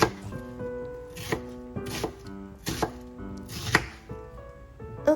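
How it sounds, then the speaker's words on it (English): A kitchen knife chops onions into wedges on a cutting board, a run of close, crisp thunks spaced about a second apart with faint background music underneath. "Okay, I cut the onions into wedges."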